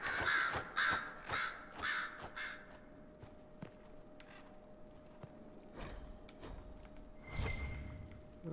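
Ravens in Dragon Age: Inquisition give several loud, harsh caws close by in a quick run, then go quiet, leaving soft footsteps, thuds and a faint hum before one more call near the end.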